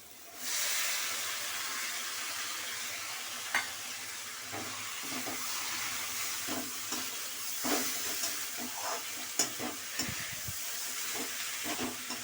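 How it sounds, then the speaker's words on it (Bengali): Lentils being stir-fried with spices in a pan for a dhaba-style egg tadka give a steady close sizzle and hiss, with scattered scraping knocks from the spoon against the pan and no talking. "দিয়ে এটা ভালো করে মশলার সঙ্গে একটু কষে নেব"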